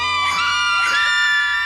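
Children screaming in a played movie scene, a loud burst of high shrill overlapping screams and yells in two waves, brief and intense.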